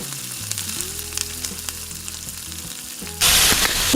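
Onion and tomato with garlic cloves and ginger sizzle steadily in a pan for Maharashtrian misal, a close continuous frying hiss that swells into a louder burst near the end, no voices.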